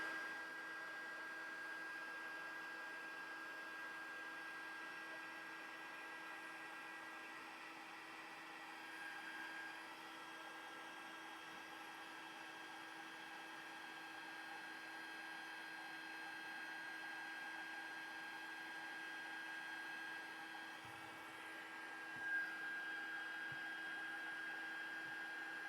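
Heat tool warming embossing powder on a screen fold card, a faint, steady blowing hum with a thin whine that runs continuously, close by and alone.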